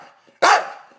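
An English bulldog gives a single loud, sharp bark close by, then a short fading tail, with quiet room sound before and after.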